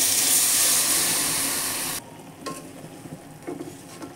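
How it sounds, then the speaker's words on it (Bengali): Fish curry simmers in a pan with water just added: a loud hiss and sizzle for two seconds, then a sudden drop to quiet bubbling with a few light spoon scrapes and clinks from gentle stirring. "হালকা করে একটু নেড়ে দিচ্ছি।"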